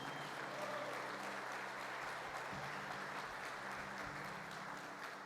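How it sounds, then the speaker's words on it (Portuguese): Church congregation applauding together, a dense, steady wash of many hands clapping at even loudness throughout. "Vira para quem está, aplauda Jesus."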